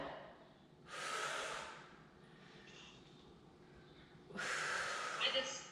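Two strong breaths, one about a second in and one near the end, are drawn and pushed out during an exercise workout, with quieter breathing between them.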